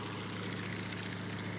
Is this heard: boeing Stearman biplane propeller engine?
yes